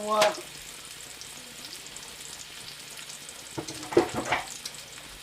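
A pork loin sears and browns in a pan with a soft, steady sizzle, broken by brief clattering bumps as the meat is turned.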